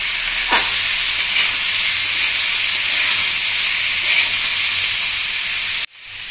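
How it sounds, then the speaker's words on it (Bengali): Rice frying in a pan for chana dal pulao, a steady close sizzle and hiss with a brief stir near the start, running loud and continuous before cutting out at the end. "চালটাকে ভালো করে ভেজে নেবেন।"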